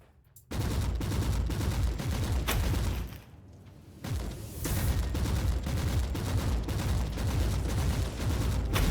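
A heavy autocannon fires in Warhammer 40,000: Inquisitor – Martyr: loud, sustained rapid bursts of booming shots with a short lull in the middle, then continuous fire again.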